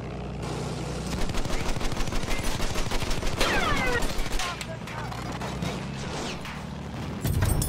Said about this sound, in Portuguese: Aí eu desabilitei ele com a metralhadora e finalizei com as bombas